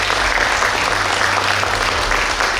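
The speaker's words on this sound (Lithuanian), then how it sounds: "jūsų plojimai." Dense, steady audience applause fills a Lithuanian award ceremony honouring a folk ensemble, loud and continuous throughout, with no voices over it.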